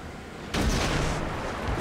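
A single heavy boom of gunfire erupts after a moment of quiet, its rumble trailing off over the next second.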